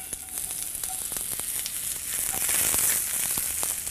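Onions and mushrooms sauté in a pan with a steady bright sizzle and scattered sharp crackles and pops, growing a little louder toward the end.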